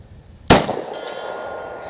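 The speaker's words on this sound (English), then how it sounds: "Those are 75 yarders y'all hear ringing down there" A single sharp metallic clang of a bullet striking a steel target at 75 yards, ringing out and slowly fading, heard from a distance.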